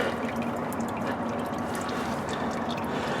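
Engine oil draining from an 03 Ford F-150 Lariat 4X4 through a trough into a bucket, a steady close trickle and patter of liquid with faint drips, no talking over it.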